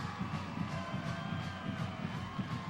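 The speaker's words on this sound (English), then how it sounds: "they are all cheering their hearts out for Estero right now" Stadium crowd cheering steadily at a 1998 5A high school football championship between Kissimmee Osceola and Estero, a continuous far-off roar of many voices with scattered whoops throughout.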